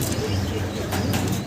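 Fancy pigeons coo close by, a low, continuous throaty rumble mixed with a few brighter chirps, with a voice faintly present underneath.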